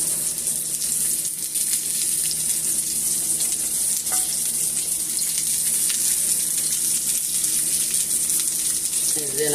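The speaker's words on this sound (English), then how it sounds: "Okay, so I'm just going to add my cabbage in." Cabbage hits a hot pan set to medium high and sizzles with a steady, loud hiss of frying that carries on evenly throughout.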